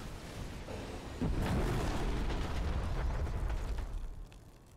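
A containment field being destroyed in StarCraft II, a loud, sustained explosive roar that swells suddenly and then rumbles on before tapering off near the end, with no talking.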